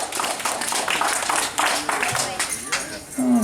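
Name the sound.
audience clapping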